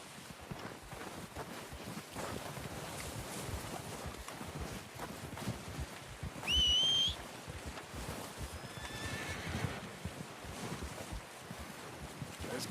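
In a Red Dead Redemption hunting scene, a horse gives one clear whinny midway through, followed by a fainter second call, over steady wind noise and soft shuffling movement.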